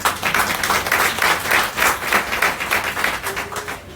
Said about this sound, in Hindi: मैम के लिए एक बार तालियां हो सकती हैं।